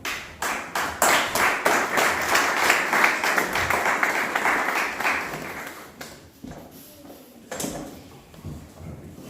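A church congregation claps along in a quick, lively rhythm, loud and close, easing off midway before a few more scattered claps; no speech.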